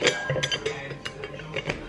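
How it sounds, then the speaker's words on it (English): Ice cubes clink and rattle in a drinking glass of pink gin, a quick series of bright, close taps and knocks with brief pauses between them. "I've got the ice stuck in the glass now."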